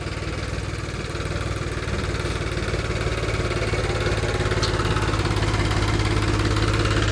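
A Swaraj 5630 tractor engine idling steadily, a loud continuous low diesel throb with even vibration throughout and no talking.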